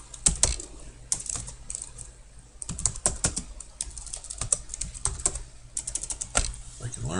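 Typing on a computer keyboard, with irregular bursts of close, crisp key clicks and short pauses between runs, fairly quiet and heard alone.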